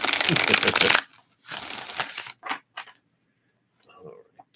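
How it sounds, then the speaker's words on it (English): Tarot cards being shuffled by hand, with a long dense burst of riffling followed by a second shorter run and a few brief card snaps, close up, before a quiet voice murmurs. "Let's give this a good shuffle"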